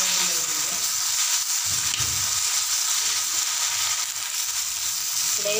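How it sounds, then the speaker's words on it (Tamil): Washed balloon vine leaves sautéing in a hot pan, a loud steady hiss of frying with faint stirring movements underneath, continuous from start to finish with no speech. "இப்போ முடக்கத்தானியை சேர்த்து வதக்கிக்கலாம்."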